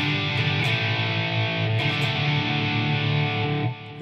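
A high-gain distorted electric guitar tone from a Line 6 Floor POD holds one thick, buzzing chord that rings steadily, then cuts off near the end.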